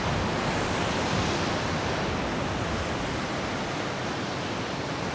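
Ocean waves surge at Dolphin Beach in Sinemorets, Bulgaria, a steady, loud, broadband roar of surf with a windy edge that holds without pause throughout.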